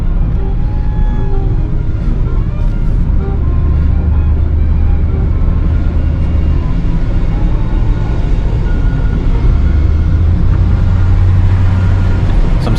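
A pickup-sized vehicle driving on a road with fresh asphalt, a loud steady engine and tyre rumble heard from inside the cab throughout.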